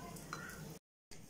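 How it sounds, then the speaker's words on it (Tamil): Mustard seeds spluttering in hot oil while tempering for a South Indian egg dosa dish, a faint, continuous sizzle with small crackles, broken by a brief silent gap. "கடுகு நல்லா வெடிச்சிருச்சு"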